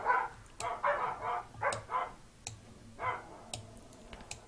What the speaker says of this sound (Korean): 강아지들이 짖고 있습니다